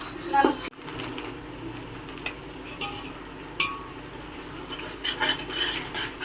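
Masala fries in oil in a pan while a spoon scrapes and stirs it, giving soft rubbing strokes and occasional metallic clinks over a low sizzle, close by.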